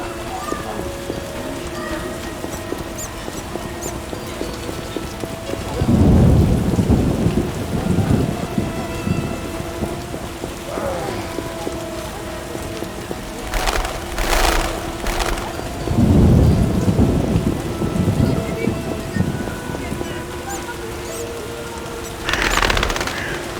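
Constant rainfall hisses in The Witcher game world, broken by several heavy thunder rumbles and crashes that swell and fade, with no voices present.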